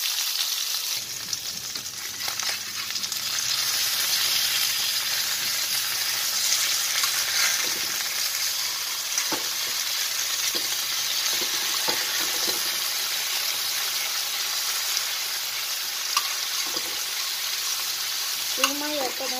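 Surmai fish pieces fry in oil in a nonstick pan, giving a steady, close hiss and crackle with a few scrapes and utensil clinks along the way.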